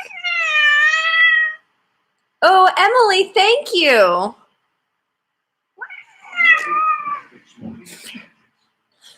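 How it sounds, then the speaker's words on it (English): A cat gives several loud, close, drawn-out meows and wavering yowls in bursts separated by silence, with a person speaking briefly between them. "Oh, we got the kitty coming back."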